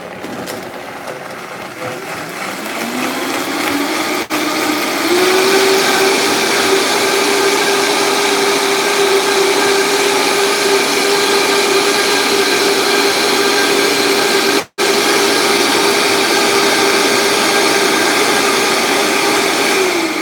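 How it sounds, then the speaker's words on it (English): A Vitamix blender whirs loudly and steadily as it blends an oil-free vegan salad dressing. Its motor pitch climbs over the first few seconds and then holds as a continuous roar, with one very brief dropout near the end. "Okay, and then you just blend it up."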